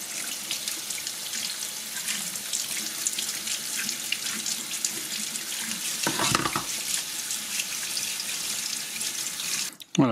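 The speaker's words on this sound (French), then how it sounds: "il suffit de rincer tous les éléments à l'eau tiède" Lukewarm tap water runs steadily into a sink while the foam and other filter parts of a Dreame V10 cordless vacuum cleaner are rinsed, with splashing changes as parts move under the stream.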